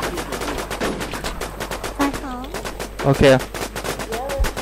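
Rapid automatic gunfire in a shooting video game, with dense bursts of shots throughout and a few heavier blasts, while players talk excitedly over the shooting.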